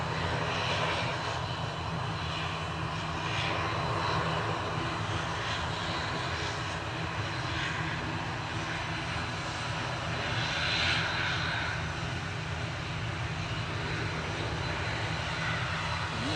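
Swiss airliner's jet engines running at an airport while it lines up for a flight to Zurich, a faint steady roar with gentle swells, heard from a distance with no speech.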